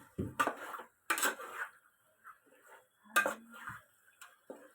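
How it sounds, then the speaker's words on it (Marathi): A spatula clacks and scrapes against a pan while chicken with masala is stirred, giving a few sharp, close knocks spaced by quieter scraping. "आता आपण हे हलवूया असं व्यवस्थित."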